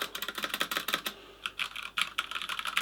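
Rapid clacking of an Adata XPG Summoner mechanical keyboard with Cherry Silver switches, keys pressed in quick bursts, with heavier, louder spacebar, Enter and Shift strikes standing out.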